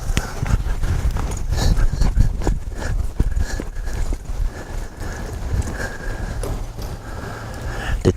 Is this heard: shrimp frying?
no